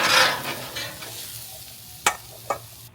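A spatula scrapes across a hot flat-top griddle, lifting sizzling vegetables for a tortellini skillet into a bowl, with a loud initial scrape, a fading fry hiss, then two sharp clacks near the end.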